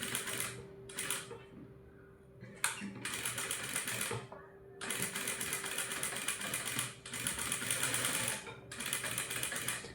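A sewing machine stitching a blouse neckline, running in several steady whirring bursts separated by short stops, close and fairly quiet, with no talking.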